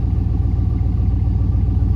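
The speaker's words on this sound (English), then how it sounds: "I just fired up the truck." A Chevrolet Silverado pickup with a 5.3 engine and low oil pressure idles after a motor flush, producing a steady, close, low rumble with an even pulsing throb and no talking.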